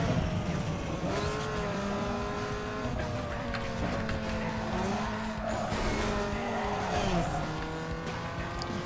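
Race car engine in NFS Underground 2 roaring steadily with rising and falling revs and gear shifts, a continuous loud drone with a nitrous boost and faint tire squeal throughout.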